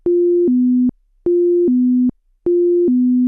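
Autopilot alert tone in a Garmin-equipped B300 King Air cockpit: three loud two-note electronic chimes, each a higher steady tone dropping to a lower one, repeating evenly with short silent gaps.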